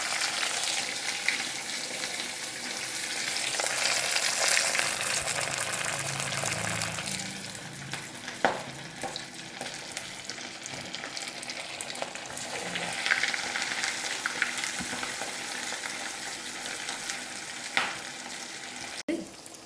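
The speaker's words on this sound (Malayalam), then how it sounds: "തിളച്ച എണ്ണയിലോട്ട് ഇടാം" Breaded chicken pieces deep-frying in boiling oil, a steady close hiss and crackle of sizzling that keeps going throughout, with a few sharper pops and faint stirring clatter.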